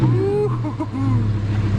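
A 2011 Audi R8 with a 5.2-liter V10 and aftermarket exhaust sits on dyno rollers, its engine droning loudly and steadily up close with small shifts in pitch.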